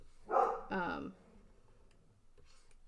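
A dog barks twice in quick succession, fairly close and loud, followed by quiet room tone with faint clicks.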